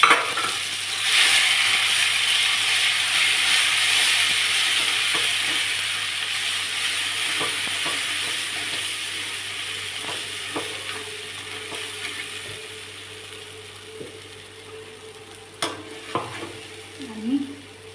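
Homemade masala hits hot oil with crackling cumin and mustard seeds in a pan for stuffed brinjal. A loud, dense sizzle gradually settles and quietens, broken near the end by a few sharp clinks and stirring knocks.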